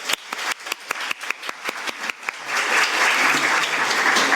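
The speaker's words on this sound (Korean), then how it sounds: "귀한 말씀 해주신 개혁신당 이주영 의원님께 다시 한번 큰 박수 부탁드립니다" Audience at an emergency medical care panel discussion clapping, starting with a few scattered claps and swelling into full, steady applause.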